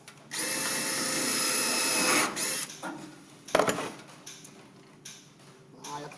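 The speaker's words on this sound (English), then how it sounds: "Drill hole." A power drill bores a hole in a Studebaker's rear bracing, running loud and steady for about two seconds, then stops, followed by clunks, handling rattles and brief bursts of talk.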